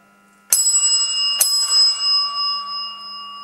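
A bright church bell rung before mass, struck twice in quick succession, each strike ringing out loud and clear, then sustaining and slowly fading.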